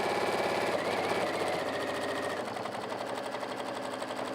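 A sewing machine stitches a seam around a corner on a one-piece go bag, running in a fast, steady mechanical chatter that slows and softens slightly partway through, close up with no speech.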